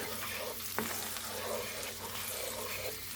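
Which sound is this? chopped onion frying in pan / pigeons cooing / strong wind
chopped onion frying in pan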